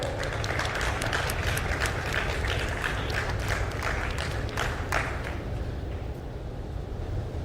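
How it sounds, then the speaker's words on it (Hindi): Sustained applause from an audience welcomes guests onto the stage at an NDTV Banega Swasth India hygiene event, a steady dense crackle of many hands clapping that holds throughout before easing slightly near the end. "तालियों से उनके स्वागत करें"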